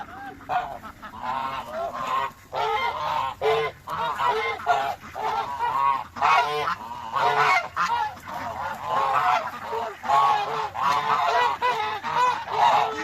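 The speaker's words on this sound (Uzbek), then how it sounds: "Karamni g'ozlar yaxshi ko'radi." Domestic geese honk repeatedly in a lively, near flock while feeding on cabbage, with overlapping calls continuing steadily throughout.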